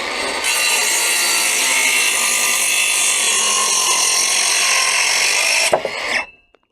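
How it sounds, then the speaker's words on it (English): A power saw cuts through a timber gravel board in one continuous, loud, close pass lasting about five seconds, then winds down and stops. "I'm just going to quickly cut through here"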